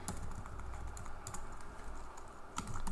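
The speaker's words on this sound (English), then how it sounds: "let me just type this." Someone types steadily on a computer keyboard, producing a dense, continuous patter of close key clicks over a low background hum, with no speech.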